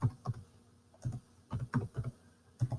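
Keys on a computer keyboard clack in short irregular clusters as numbers are typed into a Desmos graphing table, close and fairly soft with pauses between bursts.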